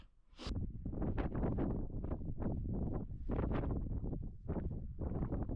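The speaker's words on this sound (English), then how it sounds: "that northerly wind's bitingly cold" Cold northerly wind buffets the microphone on an open fell, producing loud, gusty rumbling bursts that rise and fall continuously throughout, close and rough, with no talking.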